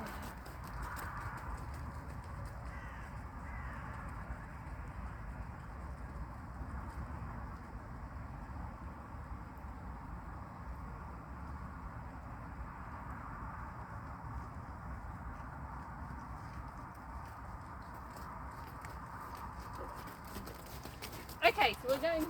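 A horse being ridden at home in winter, its hooves clip-clopping in a steady walking rhythm, faint and low under a murky background, with a couple of louder knocks near the end.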